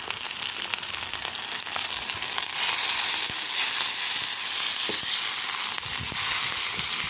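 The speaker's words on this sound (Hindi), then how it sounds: "अब हम गोश्त को इसमें डाल के ना थोड़ा सा फ्राई कर लेंगे" Desi chicken meat frying in a karahi, a loud, dense, continuous sizzle close up that swells as the pieces settle, with occasional crackles and no talking.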